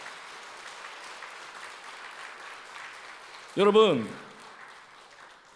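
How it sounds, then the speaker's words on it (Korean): A church congregation gives soft, diffuse encouraging applause, heard faint and somewhat distant before a single voice briefly speaks up over it. "우리 격려 박수로 격려하도록 하겠습니다."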